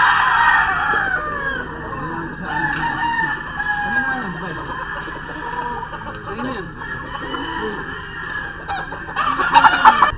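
Chickens and roosters from Sir B-Boy Enriquez's quality gamefowl stock, laid out and ready for shipment, crow and cluck repeatedly, the calls overlapping and layered near and far, with a louder burst of crowing near the end.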